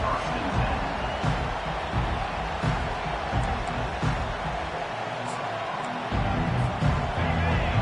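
A college football crowd at an LSU home stadium keeps up a sustained, dense roar under a commentator's voice after a kickoff return.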